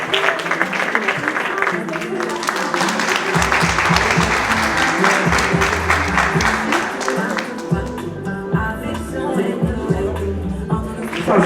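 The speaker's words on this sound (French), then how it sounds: "On nous applaudit bien fort." An audience applauds at a high school graduates' ceremony in Basse-Terre, a full, sustained round of clapping that softens in the later seconds, with some voices and background music underneath.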